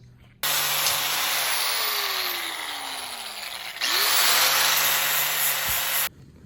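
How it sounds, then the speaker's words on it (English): Power sander working on Toyota Tacoma X-Runner drop kit parts clamped in a vise, a loud steady whine and grinding rasp running about six seconds, easing briefly midway then surging back before cutting off. "So we got them all sanded down a little bit."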